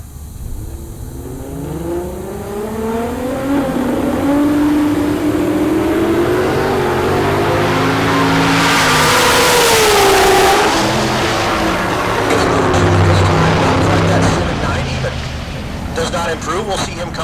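Real Street Supra and another drag car launching at Heartland Park Topeka, engines revving and climbing in pitch into a loud screaming roar that peaks and then fades, with a commentator talking over it.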